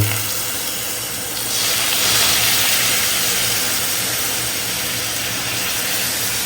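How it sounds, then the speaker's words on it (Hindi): Sweet milk poured over hot fried bread for bread milk pudding hisses into a loud, steady steaming sizzle that swells after the first second and holds on alone, with no talking. "अब इसमें डालते हैं थोड़ा थोड़ा जो मीठा दूध था, ये इसमें हल्का हल्का"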